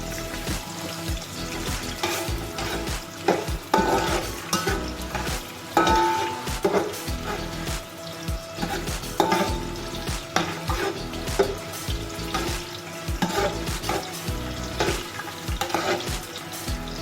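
Onion frying in hot oil for a mutton mandi, a dense continuous sizzle with frequent scraping and stirring knocks, loud and close throughout.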